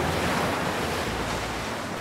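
Steady ocean surf and wash of waves while snorkeling in the Nancy Drew: The Creature of Kapu Cave game, a continuous close roar with wind-like hiss and no talk.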